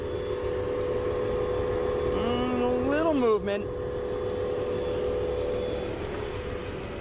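A car engine runs at a quiet, steady idle after a jump start, a faint even hum with a person speaking briefly over it.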